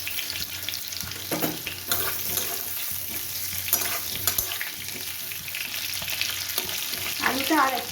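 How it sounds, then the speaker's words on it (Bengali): Potato pieces fry in hot oil seasoned with cumin and dried chillies for a fish curry, a steady dense sizzle running throughout with brief scraping stirs, close and fairly loud. "একটুখানি ভাজা হোক তারপর আমি মশলাগুলো দেবো"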